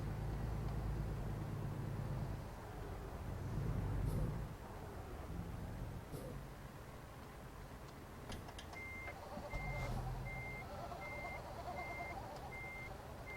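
A video game truck's reversing alarm beeps steadily over a continuous low engine rumble, with occasional faint clicks and knocks.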